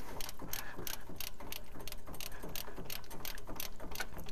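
A hand ratchet works steadily on the exhaust manifold bolts of a 1957 Buick, giving a continuous run of fast, even clicks close to the microphone with no voices.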